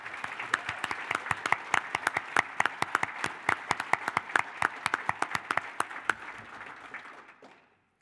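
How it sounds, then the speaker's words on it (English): An audience at the opening session of the OEGlobal23 conference claps for the program co-chairs. It is a dense, steady round of applause with sharp individual claps that carries on for about seven seconds, then quickly dies away. "A round of applause to all of them."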